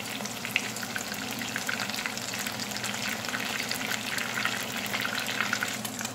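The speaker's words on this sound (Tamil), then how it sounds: "இதை ஒரு 3 மினிட்ஸில் பொறுத்து எடுத்துருவோம்." Oyster mushrooms deep-fry in hot oil, a dense, even crackle and bubbling that holds steady throughout with no voices.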